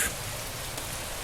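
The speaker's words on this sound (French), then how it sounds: "Ah ben tiens, il pleut." Rain pours down outdoors as a steady, even hiss of drops, moderately loud and uninterrupted throughout, with no voices over it.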